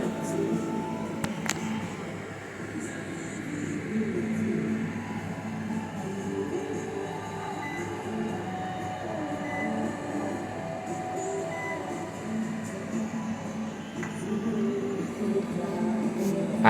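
A Mainstays microwave oven running at low power, its magnetron producing a steady low hum and mechanical drone, continuous and moderately loud with a faint click near the start.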